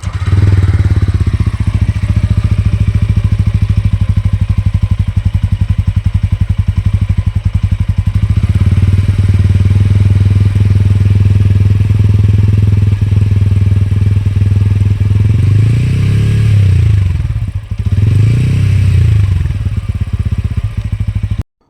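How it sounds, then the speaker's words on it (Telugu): A TVS Ronin 225 motorcycle engine starts and idles loudly up close with a throbbing mechanical clatter, then revs up and down in a few rising and falling swells before settling again. "మనం బండి స్టార్ట్ చేసి బండి యొక్క సౌండ్ అయితే చూద్దాం రండి"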